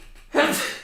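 A single sudden sneeze, fairly close and moderately loud, bursting out after a brief quiet lead-in.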